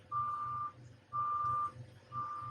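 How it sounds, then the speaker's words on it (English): Construction vehicles reversing outside a house, sending three evenly spaced electronic beeps through the walls, muffled and fairly faint over a low engine rumble. "Sorry if you can hear beeping in the background, that's the construction outside my house."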